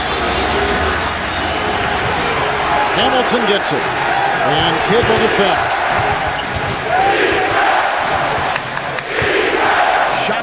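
Arena crowd at a 2004 NBA playoff game between the Pistons and Nets, a roaring, excited mass of cheering with shouts and bouncing ball thuds, running continuously beneath a play-by-play commentator's voice.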